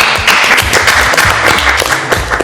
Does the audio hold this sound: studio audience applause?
yes